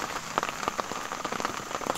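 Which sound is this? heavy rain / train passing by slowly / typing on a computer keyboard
heavy rain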